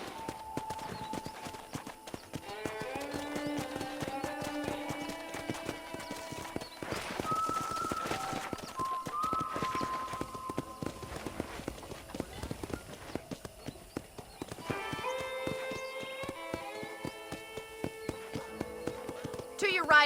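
Hooves clip-clop at a steady walking pace in the Red Dead Redemption video game, with occasional snorts, soft music and spoken dialogue running over the top.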